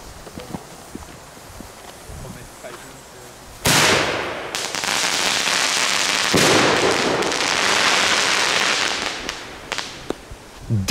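Crackling ball fireworks (knetterballen) going off outdoors: a few faint pops give way to a sudden, dense, sustained crackle that swells, briefly drops, then roars on before fading into scattered pops.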